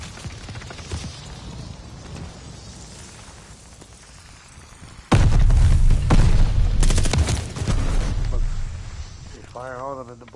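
Dense bursts of gunfire and explosive booms from a multiplayer war video game, starting quietly and then erupting loud and continuous from midway, with a brief electronic tone at the end.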